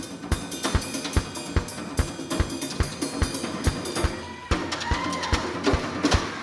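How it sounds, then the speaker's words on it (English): Drum rim clicks played with two sticks held in each hand, a fast, steady stream of sharp wooden clicks over a groove with other drums and music behind. "You also get that cool rim click"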